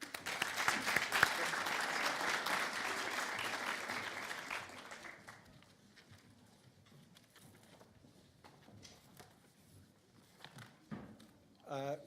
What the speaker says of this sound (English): please, your applause for our industry keynote, Calum Paterson.